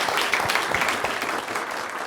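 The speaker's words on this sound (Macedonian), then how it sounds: "Дајте аплауз за Дуци" A studio audience on a TV talk show gives Duci a full, steady round of close applause that carries on without pause.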